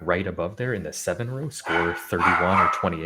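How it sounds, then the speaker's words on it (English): A dog barks a few times in the background, faint and partly masked, while someone talks steadily over it during commentary on a Scrabble championship game. "Sorry about my dog in the background."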